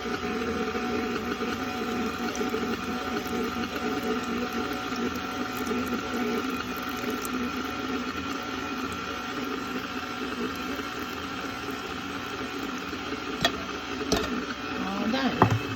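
A stand mixer runs steadily on its lowest speed, kneading pan de sal dough while milk is poured in, giving a continuous whirring motor hum with a faint sloshing texture throughout and a couple of brief knocks near the end.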